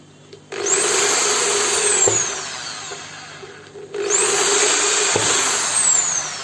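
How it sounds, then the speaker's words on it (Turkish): Power drill boring rows of small holes in a filter pipe, two loud whining bursts that rev up and run for about two to three seconds each, with a short pause between. "Bu şekilde dele dele ilerliyoruz."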